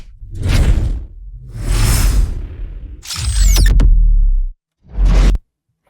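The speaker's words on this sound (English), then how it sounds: "let's quickly listen to all the whooshes in this part" A series of loud sound-design whooshes with Doppler-style pitch sweeps from a redesign of the animated series Arcane, four separate passes rising and falling, the third with a sharp descending tonal sweep, with no talking.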